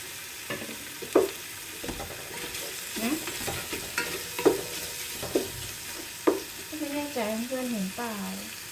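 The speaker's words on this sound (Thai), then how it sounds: "จะคั่วกันในหม้อนะคะเพราะเอจะอมในหม้อ" Chicken being dry-roasted and stirred in a pot for Thai kaeng om curry, with soft sizzling and repeated scraping stirs at irregular intervals, fairly quiet, and a voice briefly near the end.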